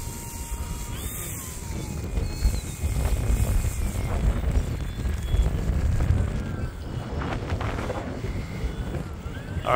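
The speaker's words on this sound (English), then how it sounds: "We are, as always, dealing with just a little bit of wind" Gusty wind buffeting a microphone outdoors at an RC airplane flying spot, a steady low rumble with surging gusts, loud and continuous throughout.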